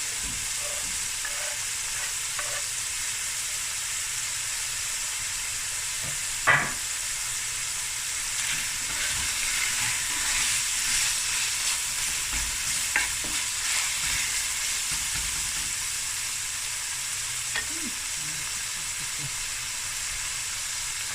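Meat and marrow bones fry in a pot for a tomato butter bean bredie, giving a steady, quiet sizzle with occasional scraping stirs and a sharper clack partway through.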